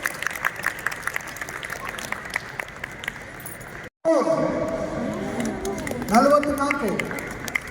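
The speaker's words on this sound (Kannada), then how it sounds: "ಚಪ್ಪಾಳೆ ಬರಲಿ" An audience at a flameless cooking competition claps for about four seconds in a steady crackling patter, then a voice begins speaking over the hall noise.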